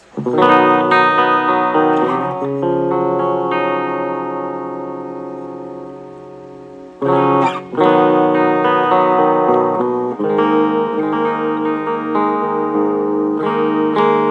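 Electric guitar chords ringing through a Melonare MA 1 small portable amplifier with a chorus-like shimmer, sustained strums with a brief pause midway, loud and close.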